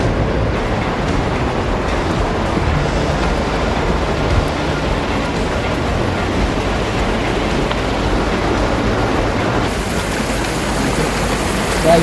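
Water plunging into a deep gorge makes a steady, unbroken roar of broadband rushing noise that holds an even level throughout, with no voices over it.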